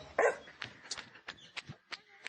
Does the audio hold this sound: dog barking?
yes